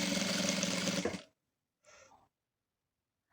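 Sewing machine running in one steady burst while stitching a chair cover, stopping after about a second, followed by a brief fainter run and a short restart at the end.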